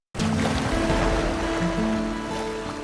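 A strong sea current surges around damaged houses on Isla Puting Bato. The water makes a loud, continuous rushing wash close by, with no voices.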